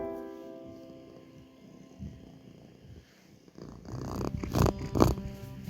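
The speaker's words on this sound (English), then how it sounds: "my cat is currently next to me, and they are purring" A pet cat purrs right beside the microphone in a low, soft rumble that runs steadily and stays faint, then grows louder with some close rustling near the end.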